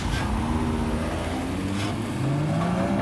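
An Audi with Drive Select set to Torque Rear and ESC off, engine revving for drifting, a loud steady close roar with rising pitch sweeps and no talk.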